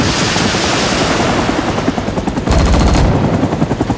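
Helicopter rockets and 20mm cannon firing in the video game Rising Storm 2, a loud continuous burst of rapid automatic fire over a constant rotor drone, with a heavier blast about midway.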